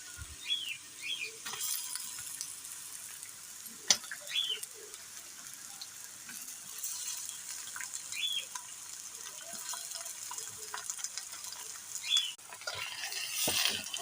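Potatoes frying and being stirred in oil in a wok for a vegetable chop filling, a soft steady sizzle with scattered scraping and clinking of the stirring utensil, fairly faint and without voices.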